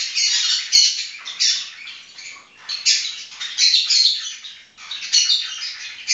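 Small birds squawk and chirp in dense, shrill bursts close by, continuing almost without pause with a few brief gaps and no talking.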